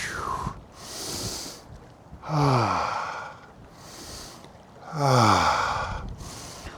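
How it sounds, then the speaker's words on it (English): A person doing a seated twist exercise takes slow deep breaths, audible airy inhales and exhales alternating in a steady rhythm, close and clear with no speech. "I like to breathe in the middle and then out when I twist. Breathe in, out."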